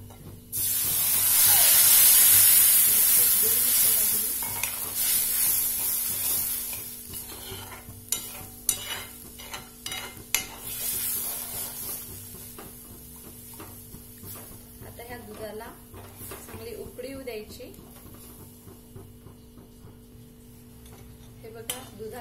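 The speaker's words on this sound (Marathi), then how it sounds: "हे बघा, दुधाला छान उकळी आलेली आहे" Milk comes to a boil in a pan with roasted vermicelli for kheer, a bubbling, hissing simmer that is loud at first and then settles into softer, steadier bubbling, with occasional clinks of a utensil and a voice talking over it.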